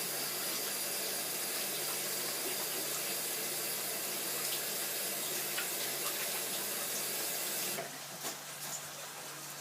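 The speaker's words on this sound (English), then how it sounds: "Washing your hands." Tap water running steadily into a kitchen sink while hands are washed during home cooking: a soft, constant hiss and splash that continues throughout, shifting slightly near the end as the flow is disturbed.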